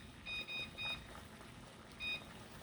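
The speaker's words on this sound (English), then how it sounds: "And then I go ahead and set the timer for 10 minutes." Kitchen timer beeping while being set for steeping tea packets for kombucha: four short, bright electronic beep bursts, three close together and one after a pause, clear over a faint room hiss.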